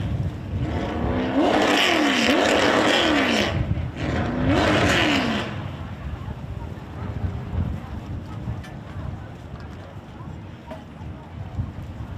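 A race car engine revs loudly at the start of a main event, two strong rising bursts up close before fading into a lower idle rumble with wind noise across the microphone.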